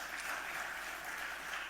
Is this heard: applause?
yes